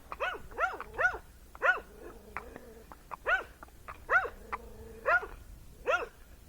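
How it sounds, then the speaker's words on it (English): A dog barks repeatedly in short, loud bursts while guarding its house, about eight sharp barks spaced roughly half a second to a second apart, with faint whimpering in the gaps and no talking. "So the dog's doing his job. He's protecting his house."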